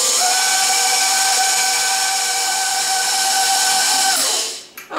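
A stand mixer set to speed 3 kneads whole wheat bread dough with a loud, steady motor whine and hiss that cuts off abruptly just before the end.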